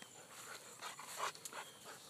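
Dogs panting softly near goats, a quick rhythmic huffing of breath with faint whimpers, quiet and close with no talk.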